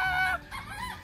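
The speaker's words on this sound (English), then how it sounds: "And we have so much chicken at the backyard. Yeah. That's why it's so noisy." Backyard chickens let out a short burst of honking, squawking calls, near and fairly loud, lasting about a second.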